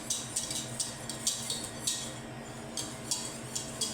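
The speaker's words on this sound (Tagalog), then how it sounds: "Halo lang natin ang mabuti" Cherry jelly dessert being stirred with a utensil in a pot, giving a steady series of light clinks and scrapes about every half second, close and fairly quiet, with no talking.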